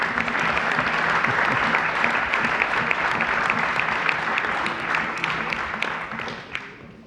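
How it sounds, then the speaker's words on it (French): Council members applaud together at a community council session in a meeting hall, a steady, dense round of clapping that holds for several seconds before thinning out near the end. "Ouais, on peut applaudir."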